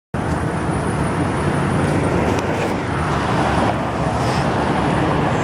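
Steady road traffic at a town street crossing with a pedestrian signal, cars and heavier vehicles rolling past continuously at close range, a loud broadband wash with no talk.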